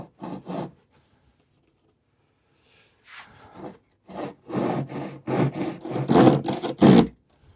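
Back-and-forth hand sawing through a wooden shingle while hanging a bird feeder, with short rasping strokes starting and stopping, then a steady run of loud, close strokes.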